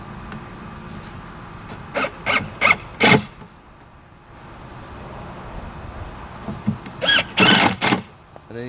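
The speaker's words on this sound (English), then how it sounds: "Go ahead and shoot you a few screws over on this side first." A drill drives screws into scrap wood for a bench, sounding as several short, loud whirring bursts in two clusters separated by a quieter pause with faint background noise.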